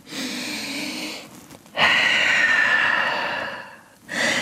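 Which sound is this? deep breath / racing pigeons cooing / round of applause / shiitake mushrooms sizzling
deep breath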